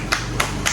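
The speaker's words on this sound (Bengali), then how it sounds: "হাততালি!" Three sharp hand claps, evenly spaced and close, at a lively village music show.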